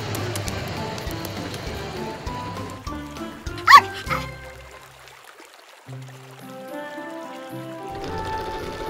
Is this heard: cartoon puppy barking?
yes